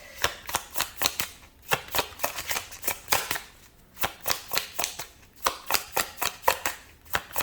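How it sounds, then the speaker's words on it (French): Tarot cards being shuffled by hand in a quiet room, a steady run of crisp riffling bursts about every half second, close and clear with no talk over them. "Une carte ici."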